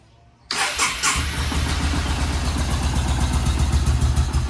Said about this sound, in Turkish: Şimdi marş yapacağım.